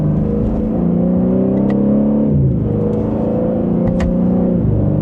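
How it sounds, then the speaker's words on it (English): A 2026 BMW M3 Competition with a twin-turbo engine accelerates, its loud exhaust note rising and falling in pitch through gear changes, a close, continuous roar with no talk. "Hopefully you can hear, it's got a good exhaust note to it."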